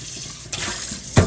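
Tap water runs into a kitchen sink while clams are rinsed, a steady splashing flow with a brief louder gush near the end.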